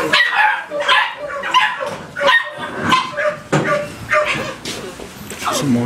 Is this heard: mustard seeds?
no